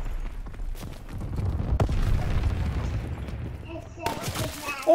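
Anti-aircraft flak guns firing in a multiplayer video game, a run of rapid muffled booms and thuds with a couple of sharper bangs, loud and close, while a player talks over the gunfire.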